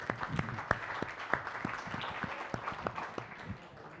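Applause from a crowd at a municipal council meeting, a steady patter of many hands with a few sharper claps standing out, holding at a fairly even level for the whole stretch.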